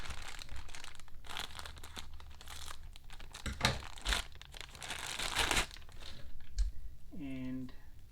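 Simple cardboard and plastic packaging for a Peugeot 308 T7 car accessory crinkles and tears as it is cut open and unwrapped, with close, irregular rustling bursts and a few sharp crackles.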